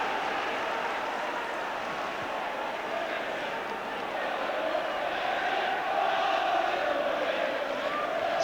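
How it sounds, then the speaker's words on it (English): Football crowd at an Everton v Liverpool FA Cup replay roaring steadily to lift the home team, a continuous broad wash of cheering that swells slightly toward the end, with a commentator talking over it. "Crowd trying to lift the home team."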